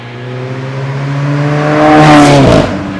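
An Alfa Romeo 4C coupe engine revs up on a winding mountain road, a rising harmonic whine building in pitch and loudness over a few seconds before a sharp shift near the end, close and loud.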